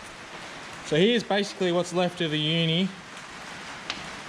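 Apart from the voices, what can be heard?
rain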